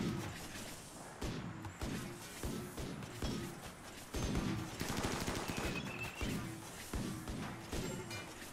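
Gunfire from a pack of sniper mechs in the video game RimWorld: dense, overlapping volleys of sharp shots and impacts that rattle on almost without pause, loud and busy throughout.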